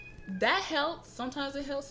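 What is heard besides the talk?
kittens meowing for attention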